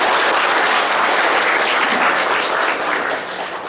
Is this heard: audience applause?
yes